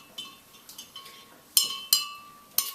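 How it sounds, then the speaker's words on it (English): A spoon stirs a mixture of salt, sugar and water with an egg floating in it. Several light, ringing clinks against the glass come at uneven intervals, clear and close, in a quiet room with no voices. "Let's stir it a little bit so they can see it better."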